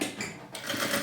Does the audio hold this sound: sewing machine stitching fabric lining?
yes